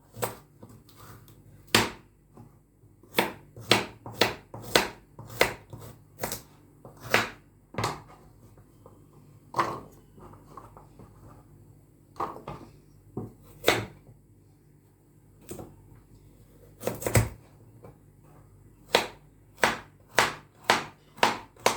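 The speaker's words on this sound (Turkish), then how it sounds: "soğanı doğrayacağım." Irregular sharp knife chops on a cutting board as an onion is cut, about twenty quiet strikes spaced unevenly, some in quick bursts, with no talking.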